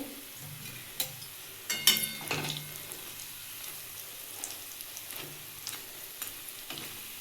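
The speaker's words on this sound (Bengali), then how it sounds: "এইভাবে দু পিঠি এরকম উল্টে পাল্টে একটু বন্ধুরা ভেজে নিতে হবে" Lentil fritters fry in hot oil in a pan, giving a soft, steady sizzle broken by sharp crackles and pops, loudest near the start, with no voices.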